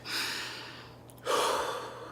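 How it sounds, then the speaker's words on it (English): A slow, deep breath drawn in and let out, taken to calm nervousness; the soft airy inhale gives way to a louder, fuller exhale, close and alone with no talking. "you have to deep breathe"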